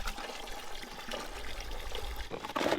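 Water poured into a container in a short burst, a soft splashing trickle that swells louder at the very end, heard alone without voices.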